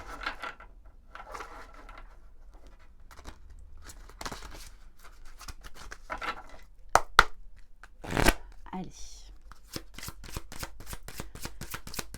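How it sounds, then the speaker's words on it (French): Mary Magdalene oracle cards shuffled by hand, with soft riffling at first, then a run of crisp rapid card flicks and taps, close and fairly quiet with no talking. "On va prendre quelques cartes de l'oracle de Marie-Madeleine."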